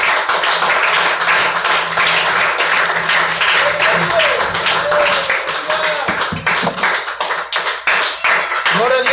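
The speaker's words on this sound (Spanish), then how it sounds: "Denle un fuerte aplauso al Señor." A church congregation applauds during a Pentecostal service, with dense, sustained clapping across the whole stretch and some voices calling out over it.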